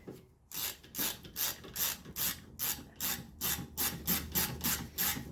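A hand ratchet clicks in steady, quick strokes while tightening brake caliper bolts on a Mercedes-Benz AMG, a dozen or so close, loud, evenly spaced ratcheting bursts with no talking.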